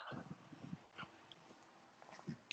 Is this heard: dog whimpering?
yes